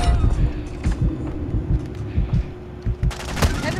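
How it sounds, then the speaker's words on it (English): Magnum pistol headshots in Call of Duty MW2 multiplayer: a burst of sharp, punchy gunshots, some spaced and some in quick clusters, mixed with other gunfire and game noise at a steady loud level. "Me like the headshots with the magnum. It sounds nice."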